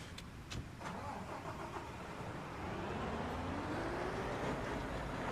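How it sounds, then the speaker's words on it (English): A dump truck's engine cranks and starts in the Construction Simulator 2022 game, with a few sharp clicks early on, then a steady engine drone that rises and grows slightly louder as it settles into running. "bring the dump truck over"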